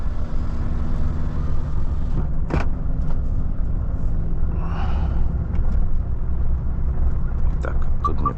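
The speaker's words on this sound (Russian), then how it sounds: "Уже не так резина это шумит." Volvo FH 540 truck rolling over a frozen ice road across a river, tires giving a steady low rumble with engine drone inside the cab, a few brief knocks and clicks, no talk heard.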